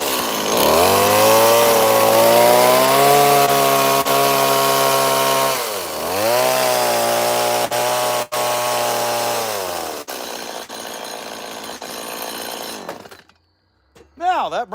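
A chainsaw carves a cardinal bird out of wood, its engine roaring loud and close, revving up and down as it bites into the wood, then cutting out near the end.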